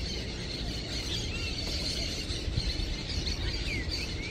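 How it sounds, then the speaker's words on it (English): Loud, dense morning birdsong near a surf town in El Salvador, a steady wash of shrill chirps and squealing calls that runs without a break over a low background rumble, with no voices. "Those birds are really loud."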